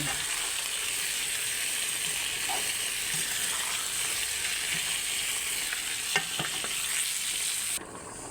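Rohu fish frying in a pan, a steady loud sizzle running unbroken with a few light clinks of a utensil near the end and no voices.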